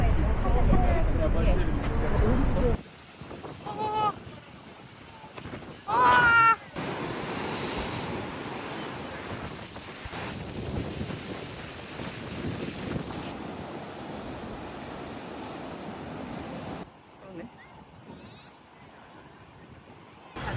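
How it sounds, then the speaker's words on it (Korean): Strong wind roars across the Busan coastline with surf washing in, loud gusts buffeting the microphone, a brief voice breaking through partway, then the wind easing near the end. "the wind was so strong that day"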